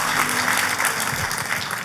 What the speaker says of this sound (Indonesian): Tepuk tangan buat Tuhan kita Yesus Kristus.